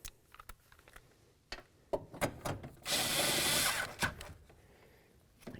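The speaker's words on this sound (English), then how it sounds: "go ahead and tighten up those 2 mounting bolts." Window regulator mounting bolts being tightened inside the door of a 2000-2005 Buick LeSabre: several sharp clicks and ratcheting knocks, then a steady whirring burst from a power driver lasting about a second, close and fairly loud, with no talking.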